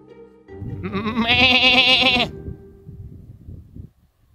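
A person imitates a sheep with a single drawn-out, wavering bleat, loud and close, outdoors near sheep on Dursey Island, Ireland, followed by quiet low rustling.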